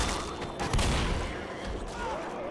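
Shotgun blasts from the zombie shooter Left 4 Dead, a heavy boom near the middle amid busy in-game noise and chatter, with smaller impacts before and after.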